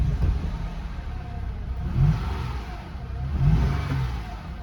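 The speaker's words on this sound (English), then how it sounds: "Give it a little bit of gas pedal." A worn 300,000-mile 2007 Honda Pilot EX engine, running poorly, rises in two modest revs as the gas pedal is pressed, a muffled mid-pitched drone over a steady idle, fairly quiet.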